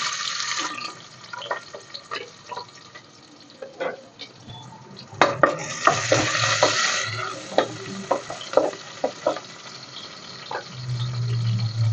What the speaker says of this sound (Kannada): ಅದಕ್ಕೆ ಒಂದು ಅರ್ಧ ಈರುಳ್ಳಿ ಹಾಕ್ತಾ ಇದ್ದೀನಿ ಒಗ್ಗರಣೆಗೆ